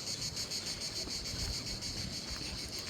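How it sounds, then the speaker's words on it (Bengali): Crickets chirp in Bangladesh in a dense, continuous pulsing trill, loud and close, with a low rumble of wind beneath and no voices. "এই যে ঝিঝি পোকা ডাকতেছে,"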